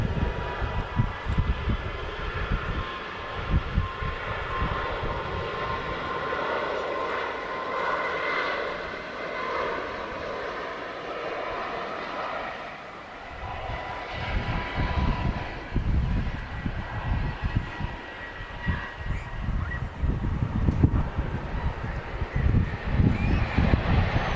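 A World2Fly Airbus A350 landing at Manchester Airport, a loud, sustained roar of jet engines that swells and dips over about twenty seconds, heard from the ground at some distance with no talking.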